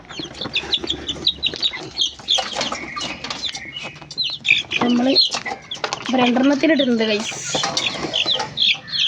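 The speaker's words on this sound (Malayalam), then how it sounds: "നല്ല കറുകറുത്ത കോഴിക്കുട്ടികൾ." Small black chicks cluck and cheep busily and close by on a village farm, with some wing flutters, while a person talks over them.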